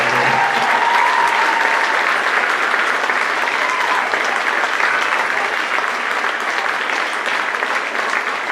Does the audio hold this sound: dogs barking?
no